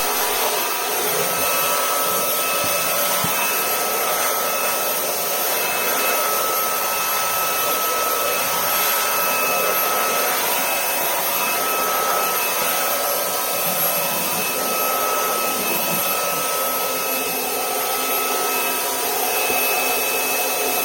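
A Shark Wandvac cordless vacuum picks up loose debris and dust from floorboards by a front door, giving a steady, loud whirring hum that runs unbroken for the whole stretch with no talking.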